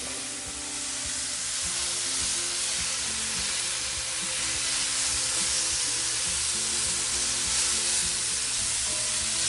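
Meat and its juices sizzle steadily in a hot Lodge Cook It All cast iron wok, a loud, even frying hiss with faint crackles and no talking.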